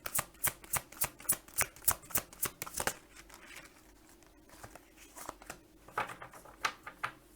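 Tarot cards being shuffled up close, a rapid series of crisp riffling snaps for a few seconds, then a quieter pause and a few more scattered card flicks toward the end, no talking.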